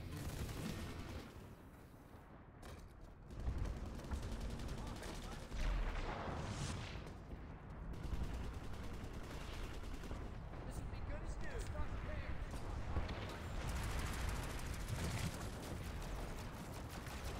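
Sustained gunfire in Planetside 2, with bursts of shots aimed at the player in a busy online battle, a steady dense barrage with heavier thumps near 3, 6 and 8 seconds, over faint background talk.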